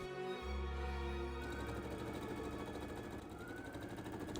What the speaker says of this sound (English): Then I sew in the darts.